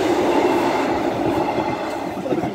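Class 156 passenger train 156422 running through Boultham level crossing on the Newark to Lincoln line, a steady close rumble of wheels and carriages holding level throughout with no voices.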